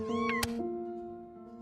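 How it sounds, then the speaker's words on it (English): A stray cat meows in the video game Before Your Eyes, one clear drawn-out meow with a sharp click partway through, a faint tonal hum lingering afterward, no voices. "You just happened to find a stray cat in the alley."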